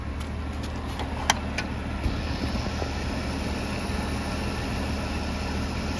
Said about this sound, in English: Right over here, we are using a Jacuzzi variable speed pool pump